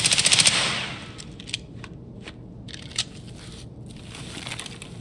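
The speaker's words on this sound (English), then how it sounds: "I don't know where he's at, but he's shooting the scav." Gunfire in the Escape From Tarkov video game, a firefight against a scav: a quick rattling burst opens, then a few sharp distant shots stand out over a steady background rumble.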